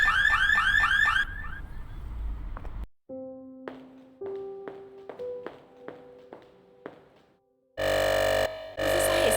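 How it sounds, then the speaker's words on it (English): A car alarm in the point-and-click game The Mystery of the Druids sweeps in loud repeating wails, then gives way to tapping footsteps and tones before blaring electronic alarm bursts return near the end. "I must be off to my car. My alarm just went off."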